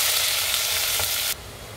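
Onion, garlic and green chili sauté in a hot pan for a South Indian chicken kurma, giving a steady bright sizzle that drops abruptly to a softer crackle partway through, with no talking.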